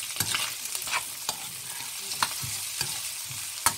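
Onion and bell pepper fry in a pan, a low sizzle punctuated by frequent sharp clicks and scrapes of a utensil stirring, close and fairly quiet with no voices.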